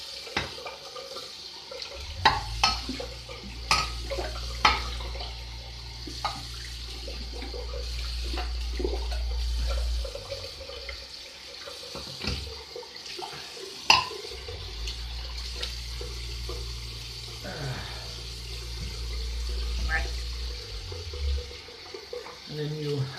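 Warm water runs steadily from a bathroom sink tap during a chest shave, a continuous rushing flow in two long stretches with brief pauses and small clinks between them.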